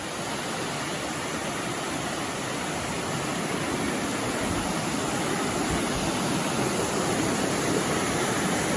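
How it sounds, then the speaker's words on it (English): A small waterfall in a creek gives a steady, dense rushing wash of falling water, loud and unbroken throughout, with no voices. "So we found the waterfall."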